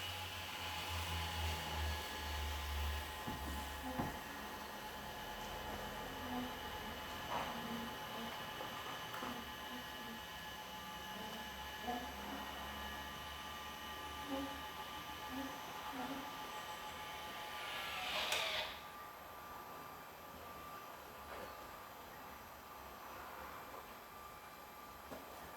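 A caravan motor mover on a Swift Elegance 565 caravan disengages from the wheel, giving a steady mechanical whirring hum with a sharp clunk near the end, then a lower continuous drone.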